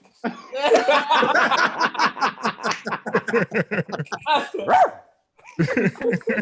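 A man imitates a dog barking with his own voice, a long rapid string of rough barky yelps mixed with chuckling, then a brief pause and more vocal noise.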